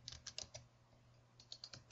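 Quiet, close keystrokes patter on a computer keyboard while code is entered, a quick irregular run of clicks, a short pause, then another cluster of taps.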